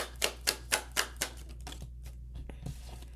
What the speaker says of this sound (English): I will shuffle it back in to see if it comes back out